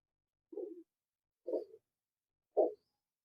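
A male racing pigeon gives three short, low coos spaced about a second apart, fairly faint and close, with silence between each call.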